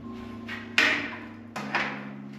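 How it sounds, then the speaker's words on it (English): Hammer striking while nailing a post and beam in a basement, two sharp close knocks with a softer tap between, over a low steady background hum. "Hold on before we start nailing it."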